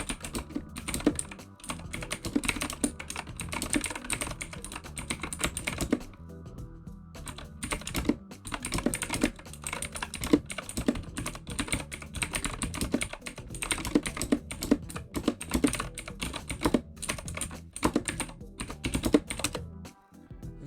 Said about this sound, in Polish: Jedyne co mnie denerwuje w tej klawiaturze to po prostu mega głośny stukot klawiszy, zresztą posłuchajcie sami.